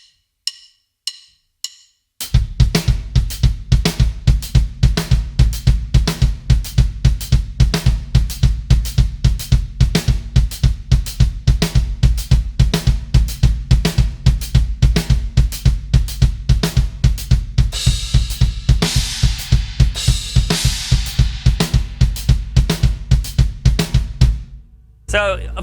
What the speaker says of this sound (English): So the kicks are all on the E's and U's,